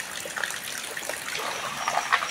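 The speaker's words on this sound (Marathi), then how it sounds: "पनवीला धार लागली बघा" A thin stream of water pours steadily into a pot set underneath to fill, a soft continuous splashing trickle, fairly close and moderately quiet, with no talk.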